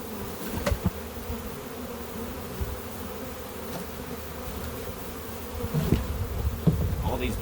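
A honey bee swarm being caught in Galesburg gives a dense, continuous buzz of many bees flying close by, with occasional louder passes and handling bumps.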